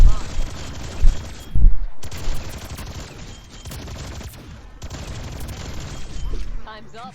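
Rapid light machine gun fire mowing down zombies in Call of Duty Zombies, loud bursts with brief pauses and game effects layered over them, with a voice speaking underneath.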